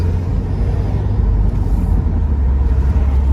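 A 2018 Subaru WRX with a manual gearbox, its engine rumbling low and loud as the driver gives it gas, a steady close-up drone inside the car without speech.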